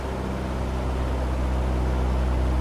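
Piper PA-28-180 Cherokee engine holding a steady drone at about 2,000 RPM during the before-takeoff run-up with carburetor heat on, loud and close throughout with no voices.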